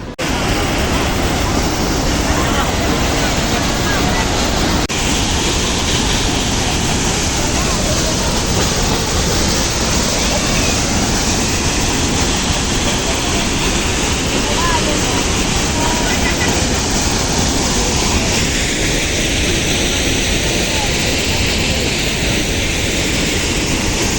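Water released through the opened gates of Peechi dam in Thrissur, a loud continuous roar and rush of churning water heard from nearby, steady throughout with wind buffeting the microphone.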